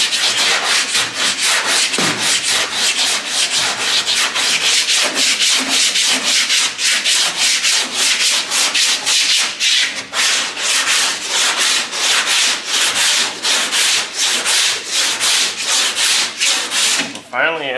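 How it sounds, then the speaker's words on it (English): Hand block sanding of Bondo body filler on a car panel, a loud, steady rasping scrub in rapid back-and-forth strokes that continues throughout with no talk. "Finally at the spot where it's sanding really nice."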